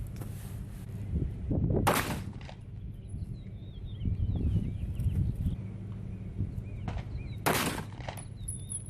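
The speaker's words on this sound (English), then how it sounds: "shoot it first with my SFT9 and then follow it up with my P365" Two 9mm pistol shots, one from an SFT9 and then one from a P365, are fired at a gel target five yards away, sharp bursts several seconds apart over a steady background rumble.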